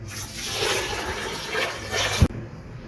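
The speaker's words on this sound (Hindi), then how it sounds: "अब हम इसमें 3 किलो पानी ऐड करते हैं ताकि ये अच्छे से सॉफ्ट हो जाए।" Water is poured into a pressure cooker holding soaked barley for porridge, a steady close rushing splash for about two seconds that ends with a small knock, then quiet.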